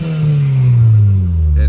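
2008 Honda Civic Si FA5 with a K24 swap and 2.5-inch Yanaka exhaust, a loud close rev whose deep engine note sweeps down steadily as it falls back, with a short sharp pop at the end.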